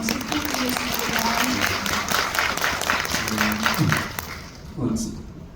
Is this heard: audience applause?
yes